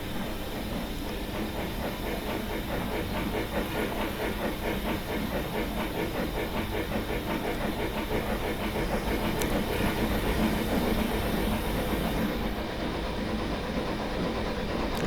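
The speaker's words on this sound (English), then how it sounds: "not a bad sounding locomotive overall" A 1907 Machine Rail EFCB 0-6-6-0 Mallet steam locomotive in Train Simulator Classic, two engines under one boiler, runs with a steady chuffing and hiss over continuous rail noise, holding an even level throughout with no talk.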